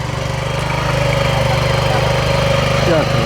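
A potato digging machine's engine runs steadily in gear on a farm field, a loud, close, even mechanical drone with a constant low throb that holds throughout.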